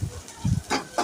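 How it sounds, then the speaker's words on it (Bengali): Onions are stirred in a frying pan, giving a few short scraping strokes with a light sizzle between them, close and brief. "লাড়ে দিলাম"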